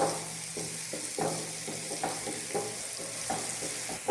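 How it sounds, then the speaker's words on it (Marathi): Chopped onion fries on high heat toward golden brown, a steady close sizzle broken by repeated rhythmic scraping strokes of a spoon stirring through the pan. "हा चॉप केलेला कांदा आपल्याला एक ब्राऊन रंग येईपर्यंत फ्राय करून घ्यायचा आहे."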